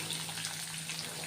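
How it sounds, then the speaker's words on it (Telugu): Thinly sliced onions and green chilies fry in hot oil in a pan, giving a steady, close sizzling hiss with no voices. "ఇప్పుడు నేను సన్నగా కట్ చేసుకుంటున్న ఆనియన్స్, పచ్చిమిర్చి వేసేస్తున్నాము. ఇవి కూడా బాగా వేగాలి."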